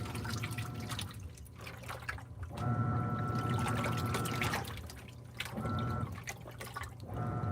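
A washing machine drains water during its pre-drain, with steady trickling and gurgling flow. The rushing swells louder in two long stretches and eases between them, fairly close, and no one speaks.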